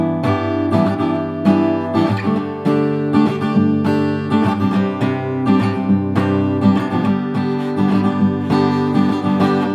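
An acoustic guitar strums the chord progression of a song in a steady down-down-up rhythm, the chords changing regularly, played alone and close.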